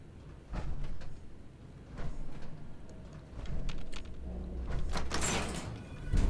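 A door opens in Fallout 4, heard as a long mechanical rumble of grinding, rolling metal that goes on for several seconds and builds toward a louder clank at the end, with no speech over it.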